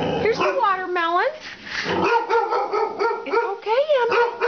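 Emmie, a pet dog, barks and yips at a watermelon, a quick run of sharp, high barks with whiny, rising whimpers between them, close and loud, with a person's voice mixed in.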